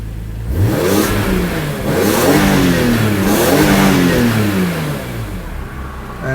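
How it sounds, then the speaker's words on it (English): BMW Z4M / E46 M3 engine revving while stationary after a voltage regulator and alternator repair, loud and close, with repeated rises and falls in pitch before settling back toward idle. "now we're gonna give it some gas and see what happens."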